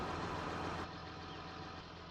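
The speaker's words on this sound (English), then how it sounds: "Love this tractor." A tractor engine idles in Farming Simulator 19, a steady broadband diesel rumble that drops slightly in level partway through, continuous with no talk.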